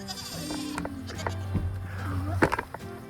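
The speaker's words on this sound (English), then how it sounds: "Got Mama Goat, one of the sheep, not sure which one. There's Baby Goat." Sheep and goats bleating close by, several overlapping calls with a louder burst near the end and a voice murmuring in the background.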